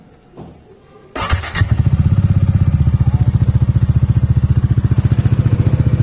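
A Bajaj Dominar 400 motorcycle starts with a brief cranking burst, then settles into a loud, close, steady idle with an even rapid pulsing thump.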